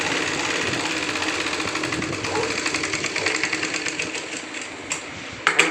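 A sewing machine runs a second line of stitching over the seam of a school shorts garment, a close, continuous rhythmic whirr that slows into distinct chugging stitches near the end before stopping.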